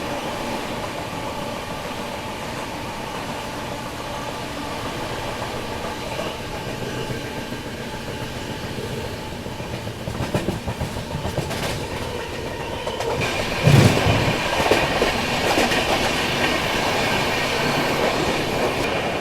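Vikramshila Express train running on rails near Vindhyachal, giving a steady rolling rumble with rhythmic clickety-clack from the wheels, close and continuous, swelling louder in the second half with a brief sharp metallic clank.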